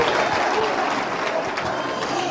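A church convention audience applauds, dense continuous clapping from a crowd that holds steady for a couple of seconds.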